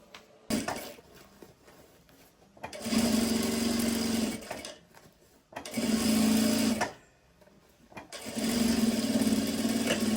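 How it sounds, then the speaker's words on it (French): A sewing machine stitches crossbody bags in three long steady bursts, loud and close, each running a couple of seconds and separated by brief pauses. "Là, je viens de finir de coudre une première partie des crossbody."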